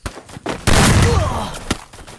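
Shotgun fire in the Free Fire battleground game, in a 4v4 match: a soft pop, then one loud, sharp blast that rings out and fades over about a second, with no speech.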